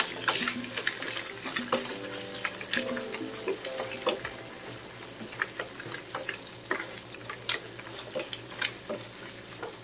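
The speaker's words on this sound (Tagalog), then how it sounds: "ilagay na natin ang ating mussels or tahong. Ayan, haluin na natin." Mussels are tipped into a pan for a seafood lemon spaghetti and stirred, with steady sizzling and frying, clattering shell and utensil scrapes, and watery splashing close by.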